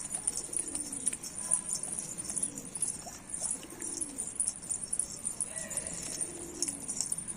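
A male pigeon coos repeatedly in low, rolling phrases over a steady high background hiss, the calls close and moderately loud.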